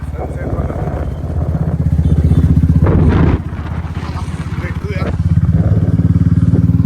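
A Royal Enfield Bullet motorcycle ridden on an evening road, its thumping single-cylinder engine loud and close with a steady rhythmic beat, wind buffeting the microphone and a brief dip as it shifts, under speech.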